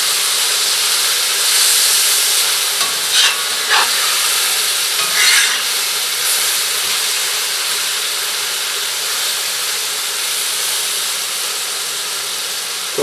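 Meat stir-frying in a cast iron wok on a wood cookstove, Korean-style BBQ, giving a steady broad sizzle and hiss with a few brief scraping stir strokes near the start, close and continuous with no talk.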